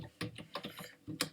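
Quiet clicks of C++ code being typed on a computer keyboard, a brief run of about six soft keystrokes at uneven spacing with no voice.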